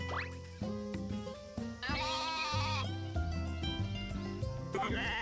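Sheep bleat in the farming video game Story of Seasons: A Wonderful Life, with short wavering cries mixed into bright, cheerful looping game music that stays loud throughout.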